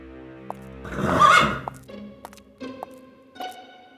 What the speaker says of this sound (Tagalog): Hoy, kabayo!